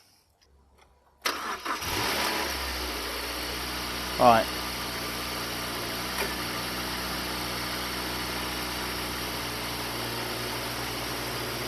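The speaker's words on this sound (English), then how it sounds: "So go and turn the engine on." A car engine cranks and catches after a moment of silence, then settles into a steady, smooth idle at close range, with a brief throttle blip shortly after and a short spoken word over it.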